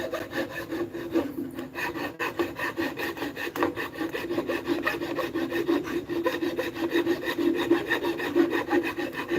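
A file rasps steadily against wood while a cane is being carved, a continuous close scraping with quick repeated strokes and no voices.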